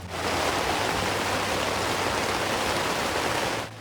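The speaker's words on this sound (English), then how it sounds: "by the time we got to the campsite, it was a torrential downpour" Dense, steady hiss of a torrential downpour at a campsite pours without a break, loud and close, with a faint low hum underneath.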